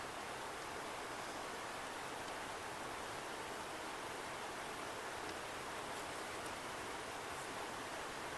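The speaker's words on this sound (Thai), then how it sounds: "เอาฝนตกมาอีกแล้ว ทุกคนเอ้ย" Steady rain pours down in rural Laos, a dense, even hiss that stays constant and fairly loud throughout, with no voices.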